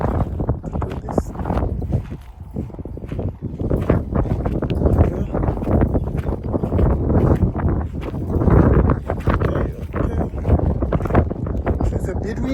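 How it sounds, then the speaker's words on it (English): Wind blowing across a newly fenced 3-hectare farm plot in Africa, a loud, continuous buffeting rumble of wind hitting the microphone that surges and eases throughout, with a voice partly buried beneath it. "It's a bit windy."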